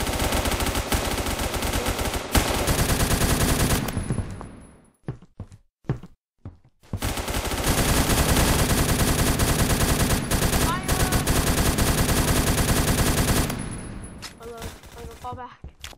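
Gunfire in the online shooter Phantom Forces plays as loud, dense bursts of automatic fire. The shooting stops for a few seconds with scattered single shots, then a long sustained stream resumes and fades near the end.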